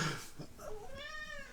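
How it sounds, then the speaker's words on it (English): A pet cat sitting beside a desk lets out a single clear meow, its rising-and-falling tone close and distinct against a quiet room. "My cat just let out a meow"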